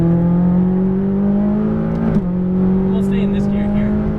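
McLaren 570S engine on track under hard acceleration, a loud, steady rising drone with a brief dip as a gear changes, recorded on board.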